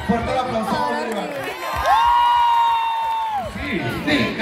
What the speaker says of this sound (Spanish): Fuerte el aplauso, Bolívar.